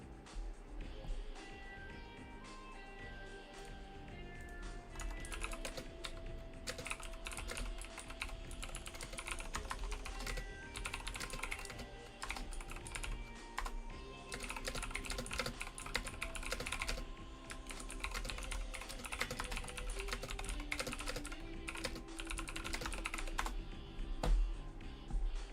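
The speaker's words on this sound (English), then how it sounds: "Sorry, I'm like aggressively typing." Fast, forceful typing on a computer keyboard clatters continuously in dense bursts of keystrokes, close and fairly quiet, with no talking.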